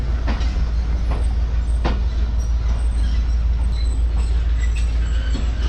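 A passenger train reversing toward the platform at Habibkot Junction in Sindh, its locomotive set to turn on a turntable; a loud, continuous rumble with a deep low drone, sharp intermittent clacks and faint squeals.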